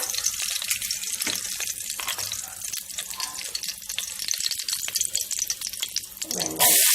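Cinnamon and cardamom crackling and sizzling in hot ghee and oil, a continuous bright hiss with small pops, ending in a sudden louder burst of sizzle.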